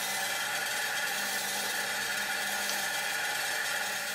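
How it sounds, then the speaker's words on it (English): A surface grinder takes a topside pass across a steel toolmaker's clamp, making a constant, close, high-pitched abrasive hiss with a faint low hum underneath and no voices. "So I did a topside grind."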